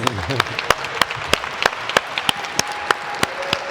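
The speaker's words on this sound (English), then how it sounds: "give her a round of applause" An audience at a Rotary district governor installation gives a round of applause, a steady bed of clapping punctuated by sharp, distinct close-up claps at a regular beat, with murmured voices underneath.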